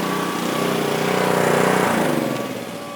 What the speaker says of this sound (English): just in time for the air compressor to turn on